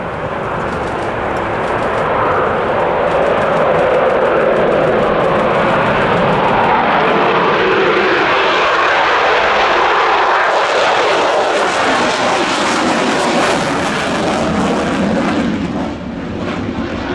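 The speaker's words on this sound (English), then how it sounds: "JAS 39E Gripen." A SAAB JAS 39E Gripen fighter jet flies a display at RIAT 2025. Its engine gives a loud, sustained roar that swells and shifts in pitch as it passes, with no voices.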